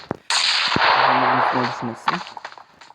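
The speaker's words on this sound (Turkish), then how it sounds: "Bomba bomba geldi bomba çok fena geldi." A loud, sudden blast from a grenade in the battle game PUBG Mobile, followed by a sustained roaring rumble that fades over a couple of seconds, with a voice speaking over the tail and a few sharp cracks after.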